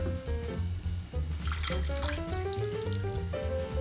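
Cold tap water runs steadily into a bowl to soften gelatin sheets for a chocolate and passion fruit cheesecake, a continuous close splashing flow whose pitch rises as the container fills, no talking.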